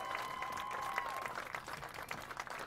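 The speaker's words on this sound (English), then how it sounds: "Let's give them a big round of applause." A crowd applauds the homecoming court at a Woodbury Central varsity football game, producing sustained distant clapping that fades slightly toward the end.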